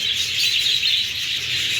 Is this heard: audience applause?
no